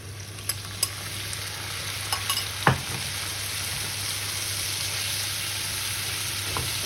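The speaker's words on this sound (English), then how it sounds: "we're gonna add the vinegar and honey mix" Vinegar and honey mix hits cooked onions in a hot pan for a Greek pork chop sauce. A steady close sizzle runs throughout, with a few sharp clicks and taps of a utensil and no voice.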